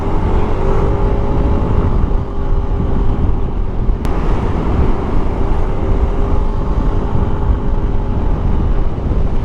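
A Yamaha NMAX scooter rides through traffic, its engine giving a steady, loud whirring hum close by, mixed with surrounding road noise and a brief sharp click partway through.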